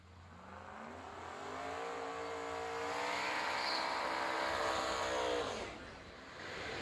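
Small block turbo Ford drag racing car revving and building to a sustained loud roar, heard from the track at a drag racing event, the engine note rising then holding steady before dropping off near the end.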